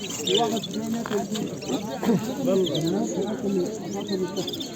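Songbirds chirp and tweet at the Edirnekapı chicken and songbird market, where canaries and budgerigars are sold. The birdsong sits under close, lively conversation among people at the stalls.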